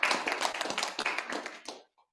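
A church congregation claps hands in a quick, steady rhythm at moderate volume, then the clapping stops abruptly near the end.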